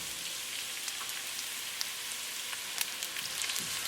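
Onion frying in a hot pan with ginger and garlic, a steady bright sizzle with scattered crackles and pops, close and even throughout, without talk.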